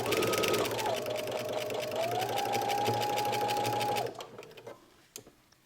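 Steady, close whirring run of a sewing machine stitching a pajama seam, holding for about four seconds before stopping into a quieter tail.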